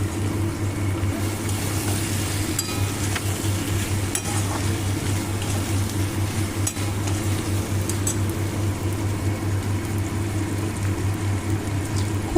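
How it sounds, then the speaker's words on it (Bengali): Fried okra being stirred into softened potatoes in a pan, with a steady low sizzle and scraping stir sounds, close and continuous, with occasional light clinks of utensil on metal. "এবার আমি ভেজে রাখা ঢ্যাঁড়সগুলো ওর মধ্যে দিয়ে খুব ভালো করে মিশিয়ে নেব।"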